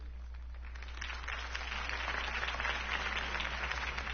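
A crowd applauds Harvey Dent's campaign speech in the Batman Telltale video game, a steady distant wash of clapping that swells slightly toward the end, over a low constant hum, with no speech.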